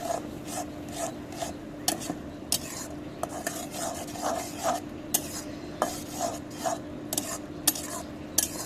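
A spice paste being stirred and fried in a pan before fish goes in, heard as quick, repeated scraping and clinking strokes of a spoon against the pan over a steady background sizzle, close up, with no talking.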